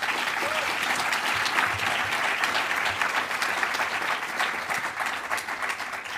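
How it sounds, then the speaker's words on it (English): A conference audience at a live API-testing talk in London breaks into dense, sustained applause, steady and loud throughout with no break. "So big round of applause to PipeDrive."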